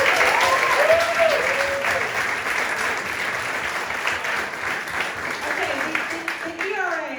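Audience hand clapping at a progressive political fundraiser event, a steady patter of applause running throughout while a voice and faint musical tones sound over it.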